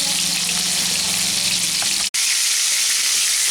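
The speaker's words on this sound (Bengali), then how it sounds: "ঝিঙেটা ভাজা হয়ে গেছে, এখন এটাকে তুলে নিচ্ছি।" Ridge gourd fries in hot oil with a steady, close, loud sizzle that cuts out for an instant near the end, then resumes alone.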